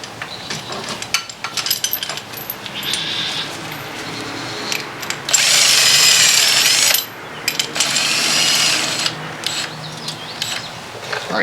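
Power tool spinning a 24mm socket on a spring compressor during Porsche 911 997 top hat suspension mount work, a loud sustained whir of about two seconds, then a second burst, among clinks and handling noises.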